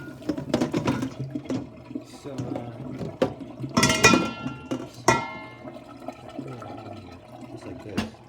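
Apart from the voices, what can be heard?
boiling water pouring into a plastic water bottle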